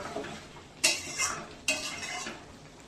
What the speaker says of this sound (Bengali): এবার আমি গ্যাস কমিয়ে দিয়ে আস্তে আস্তে মাংসটাকে খুব ভালো করে কষিয়ে নেব